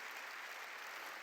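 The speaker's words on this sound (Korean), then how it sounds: "박수로 하나님께 영광 돌리고" A church congregation claps together at a revival service, dense and steady applause that fills the whole moment at close range.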